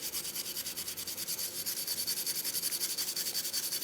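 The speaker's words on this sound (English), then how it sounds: "using this brush, I'm able to see if it's going to damage the paint" A brush scrubs steadily back and forth over a japanned metal part of an E. C. Stearns & Co. No 13 plane, testing whether the original black paint survives. The strokes are quick and even, soft and close, with no talking.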